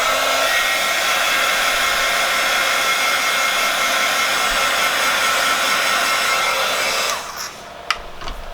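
A hair dryer blows steadily and loudly at close range while drying paint on a hand-painted piece, then cuts off near the end, leaving a few faint clicks.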